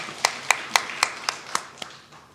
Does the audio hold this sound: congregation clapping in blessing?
yes